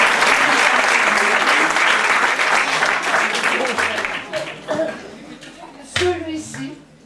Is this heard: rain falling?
no